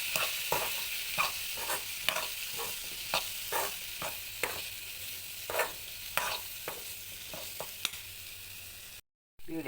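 Chili powder stirred into hot oil for a spicy Kerala mango pickle: a steady close sizzle, broken by a regular series of sharp scraping stirs. Near the end the sound briefly cuts out.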